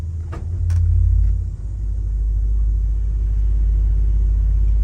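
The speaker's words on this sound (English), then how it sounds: "Moving down to the pedals, we have a 32-foot sub bass." A deep, loud, sustained sub-bass rumble fills the clip, a very low 32-foot sub bass pipe organ pedal tone with a faint click near the beginning.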